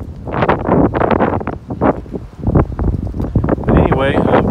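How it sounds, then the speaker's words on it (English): Strong storm wind buffets the microphone in loud, gusty rumbles throughout, with a voice faintly audible under the roar. "It's still pretty windy."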